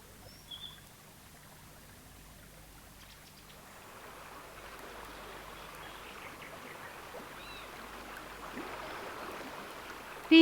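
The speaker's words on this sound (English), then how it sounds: "These upland streams are important for wildlife." An upland stream runs over stones with a faint, steady rush that gradually swells a little louder, and a few thin bird calls sound in the distance.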